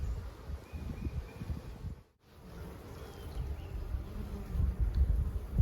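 Bees buzzing steadily around a Layens hive outdoors, a dense droning swarm sound close by with a brief dip in the middle.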